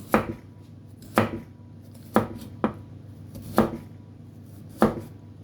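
A knife slices through bitter gourd (ampalaya) on a cutting board in sharp, evenly spaced chops, about one per second, each with a softer follow-up tap, close and clear.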